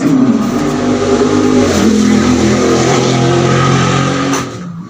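A loud car engine roars close by, holding a steady revving drone for several seconds before fading off at the end.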